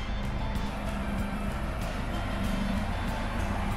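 A lifted 30-year-old Volvo station wagon driving off-road gives a steady, close rumble of engine and rolling noise that holds at an even loudness throughout, with no talking.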